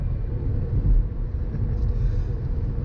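A stock Volvo C30 five-cylinder engine runs with a low, steady rumble, a continuous, moderately loud drone that stays even throughout and has no other sound over it.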